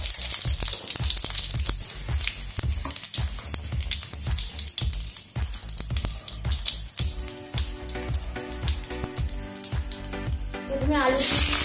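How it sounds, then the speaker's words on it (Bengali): Panch phoron spices hit hot mustard oil in a pan, producing a close, crackling sizzle with sharp popping ticks throughout, and a voice speaks over it. "তেলটা গরম হয়ে গেছে, এর মধ্যে একটু পাঁচফোড়ন দিয়ে দিচ্ছি।"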